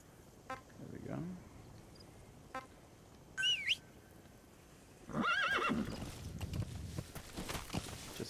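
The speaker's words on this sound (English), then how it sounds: "Call the horse." A horse in the Metal Gear Solid V video game whinnies loudly after a pair of sharp clicks, then hooves clop and a second, longer neigh rises over game ambience, with a brief tonal game sound between them.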